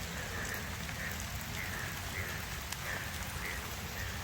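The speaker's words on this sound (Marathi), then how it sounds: "हे बघा एवढा पाऊस" Heavy monsoon rain pours steadily and loudly over a farm, a dense continuous hiss with scattered drops hitting close by.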